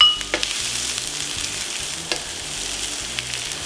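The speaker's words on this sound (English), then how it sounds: "Stir the onion and the garlic around in the pan for about 30 seconds and allow it to become very fragrant." Onion and garlic sizzle steadily in hot olive oil in a saucepan, a close, continuous crackling fry with a few stirring scrapes and no talking.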